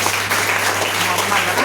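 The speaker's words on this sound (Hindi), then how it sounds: "स्मार्ट बिल्डिंग की संस्था के लिए जोरदार तालियां होना चाहिए" A crowd at a gathering honouring a smart building organisation claps loudly and continuously, a dense wash of applause filling the short moment.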